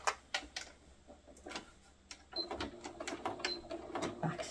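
Sewing machine back stitching a fabric neck snood, a quiet run of quick mechanical ticks and short bursts with faint background noise.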